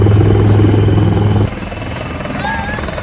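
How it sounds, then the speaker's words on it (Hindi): A rescue helicopter airlifting people from floodwaters during heavy rain in India makes a loud, continuous rotor and engine drone that drops slightly in level partway through. Faint voices are heard under it. "हेलीकॉप्टर से लोगों को सुरक्षित स्थानों पर ले जाया जा रहा है।"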